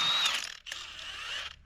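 A hand ratchet clicks on the lug nuts of a truck with a 5.9 Cummins diesel: two short, close bursts of rapid clicking separated by a brief pause.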